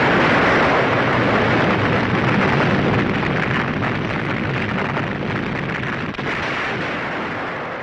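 Volatile generators blow up in a science-fiction audio drama, a loud, sustained roaring blast that surges at once and then slowly rumbles and fades over several seconds, heard alone without voices.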